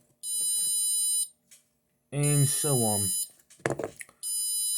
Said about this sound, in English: Every 30 seconds it buzzes.